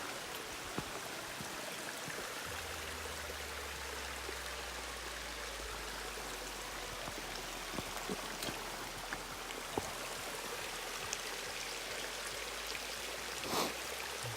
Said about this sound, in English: There's a little waterfall or slide or whatever you want to call it.